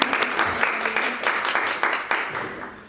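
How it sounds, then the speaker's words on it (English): An audience at an artist talk claps in a round of applause, a moderate, uneven patter of hands that stays fairly quiet and slightly distant through three seconds, with no speech over it. "a round of applause"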